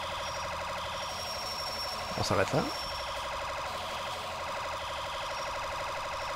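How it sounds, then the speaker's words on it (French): An alarm wails in the EmergeNYC emergency-services game, a steady tonal drone running throughout with a brief louder burst of noise in the middle, while someone speaks briefly. "Et on entend l'alarme."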